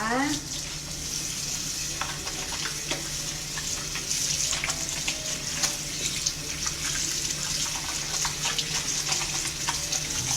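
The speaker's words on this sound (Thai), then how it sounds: "เสร็จแล้วล้างน้ำให้สะอาดนะคะ" Tap water runs steadily into a sink while hands are rinsed after a handwashing demonstration, a continuous hiss of flow with small splashing variations and no talk over it.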